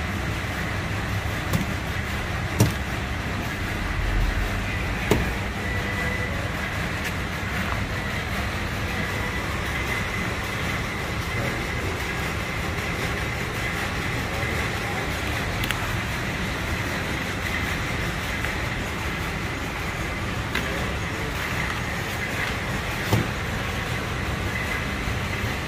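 A high-speed disposable paper plate making machine of an upgraded 2022 design runs steadily on household power, giving a continuous mechanical hum and clatter with faint periodic knocks throughout, no speech over it.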